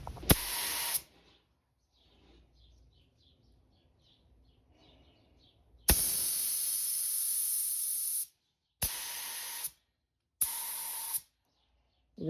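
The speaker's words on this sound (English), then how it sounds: "Just gotta check the spray pattern on the gun and make sure it's ready to go" A paint spray gun loaded with Rust-Oleum paint for a multi-tone paint job hisses loudly in several bursts: one short, one long, then two brief blasts, with quiet gaps between.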